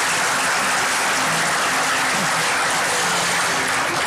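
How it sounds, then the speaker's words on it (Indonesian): Studio audience on an Indonesian talk show bursts into steady applause, a dense hiss of many hands clapping at an even level over a faint low musical tone. "Boleh tepuk tangan."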